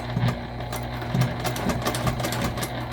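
Sewing machine stitching fabric for a beginner circle bag, a steady rapid mechanical hum and needle chatter running continuously throughout at close range.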